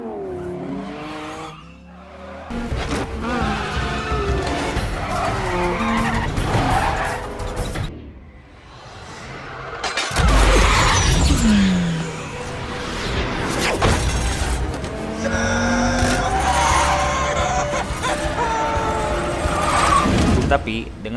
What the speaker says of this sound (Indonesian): Dan scene kejar-kejaran mobil pun terjadi.